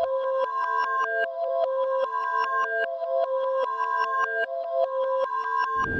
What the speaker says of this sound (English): so I pitched up 1 octave from the other one